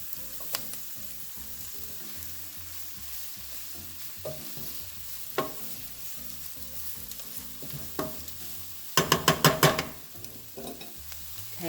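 Peppers sizzling with Italian sausage in a single pan, a soft steady fry broken by occasional spoon knocks and a burst of rapid scraping stirs near the end, close and without talk.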